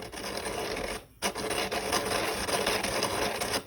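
A loud, rough grinding and scraping of metal parts turning against each other as the ring of an Umikot WDT tool is unscrewed, continuous apart from a brief pause, close up.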